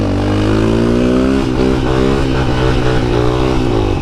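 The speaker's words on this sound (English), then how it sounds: "That is literally the perfect size bike for her" A dual sport motorcycle rides off with a loud, close engine drone that climbs in pitch through a steady rev, holding strong and continuous throughout.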